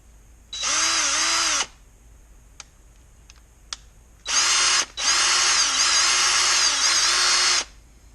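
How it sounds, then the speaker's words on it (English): A power drill whirs in one short burst, drilling a hole in a Team Associated SC28 RC truck, then after a few faint clicks runs again in two longer bursts, loud and close. "it works best just to drill a hole through the top of this and then feed the wire up"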